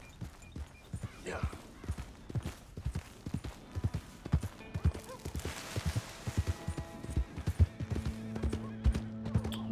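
Rhythmic clip-clop of horse hooves at a steady gallop in the Red Dead Redemption 2 video game, close and prominent, with a steady low hum entering toward the end.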